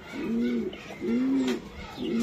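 Racing pigeons in a loft give three low, rounded coos in a steady rhythm, close and clear over quiet background noise.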